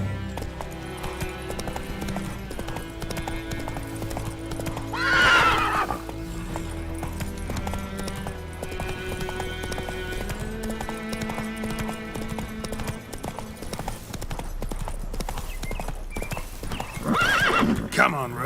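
Horse hooves clip-clop at a gallop in The Witcher 3 video game, steady and close throughout, with occasional neighs and whinnies over background game music and a person talking.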